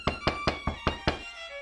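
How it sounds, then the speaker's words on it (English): Six firm, evenly spaced knocks land on a front door, close and loud, in a steady rhythm that then stops. "we heard a knock on the front door."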